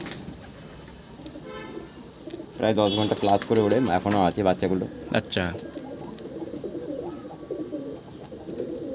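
Pet pigeons from a tournament-flying collection coo softly in the background, low and continuous, while someone talks over them in the middle of the stretch.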